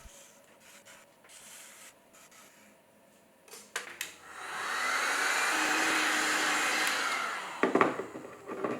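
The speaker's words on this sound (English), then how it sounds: "give this thicker section a head start in terms of drying by blasting it a couple of times with a paint stripper" A paint-stripping heat gun blasts a thick section of a thrown clay teapot pedestal to dry it, starting with a click and rising into a steady, loud blowing roar that lasts a few seconds before cutting off with clatter.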